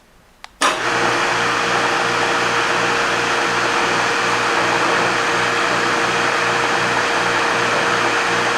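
A motorized Princess Auto tubing bender starts after a brief quiet moment and then runs at a steady, loud drone. Its motor holds an even whine with low harmonic hum throughout, and no voices are heard.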